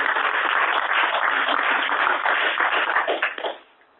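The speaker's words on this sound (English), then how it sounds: "We'll give Dave a virtual applause." Sustained applause from a conference audience at the close of a talk on balanced mix design for asphalt, dense steady clapping filling the clip before trailing off abruptly near the end.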